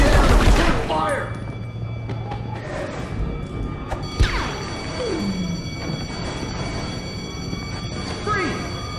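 Gunfire in a PS2 video game cutscene bursts out amid shouted dialogue and game music, with sharp cracks and a loud boom around the middle; horses seem to move and whinny in the mix.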